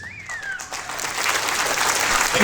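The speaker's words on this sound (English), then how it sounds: "can I please get everybody to give me a huge round of applause?" Guests at a wedding reception break into a round of applause, the clapping building quickly and staying loud and dense through the short stretch.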